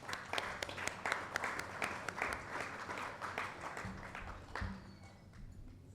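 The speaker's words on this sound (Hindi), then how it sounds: "please give a round of applause for her" Steady clapping from an audience at an awards ceremony, dense and sustained, thinning toward the end as a low tone enters, heard at a moderate distance.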